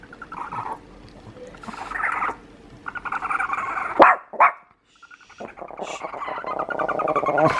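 A dog barks repeatedly nearby in bursts of sharp yaps and whiny barks, with brief pauses between volleys.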